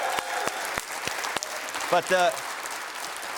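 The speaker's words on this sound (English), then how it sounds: "They deserve a big round of applause." Audience applause for the band members who wrote the opening theme on a late-night show's final episode: steady dense clapping throughout, with a few sharp claps standing out and a brief spoken voice in the middle.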